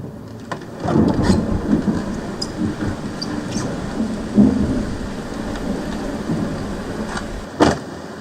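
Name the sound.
ambient rain sound effect heard from inside a car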